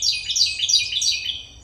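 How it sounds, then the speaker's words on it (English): A bird calling loudly nearby in a rapid run of shrill, high chirps and squawks that repeats without a break, with no talking. "Much like a bird screaming while you're trying to talk."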